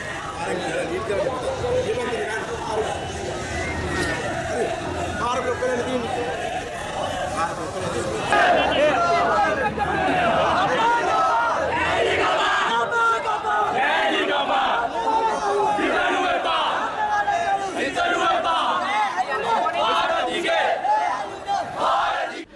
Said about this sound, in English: The crowd dispersed after protesting for around an hour.